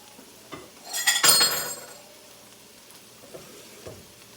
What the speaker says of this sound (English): So now let me get my bowl for my eggs.